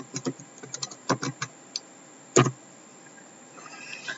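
Typing on a computer keyboard: a quick run of light key clicks, a brief pause, a louder single keystroke, then a few faint taps, all close and clear with no voices.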